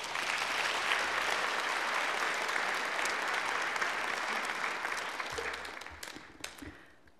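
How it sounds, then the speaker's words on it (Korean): A church congregation at a Sunday service applauds to welcome a guest speaker, a dense, sustained round of clapping from many people that gradually thins and fades out with a few last claps. "권사님 나오실 때 박수로 환영해 주시기를 부탁을 드립니다."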